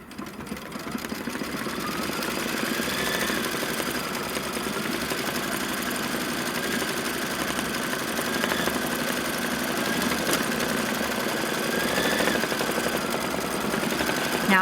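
An embroidery sewing machine stitches a tack-down with pink thread on quilt fabric, a steady mechanical whirr with fine rapid needle clatter and a few pitch shifts, running continuously and close.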